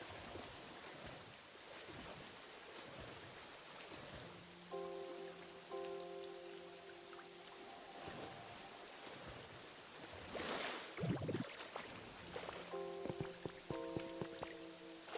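Rain patters steadily on surfaces in the game Pokémon Pokopia, a soft continuous hiss of drops with brief musical tones layered over it and no talking.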